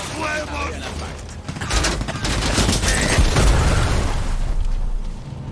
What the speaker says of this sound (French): Barrage entier de bombe